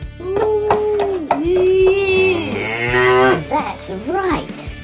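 A voice imitates a cow, giving a series of drawn-out, tonal moos in quick succession, close and loud, with a brief spoken reply among them, set around toy tractor play.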